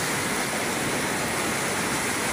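Heavy rain pours during super typhoon Carina, a dense, steady roaring wash with no breaks, loud and close.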